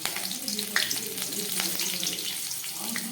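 Dried red and green chillies crackle and sizzle in hot oil, a dense, steady frying hiss with small pops throughout, close and fairly loud.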